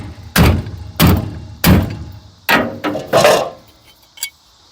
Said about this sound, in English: We're going to just use the attitude correction device and the soft blow hammer.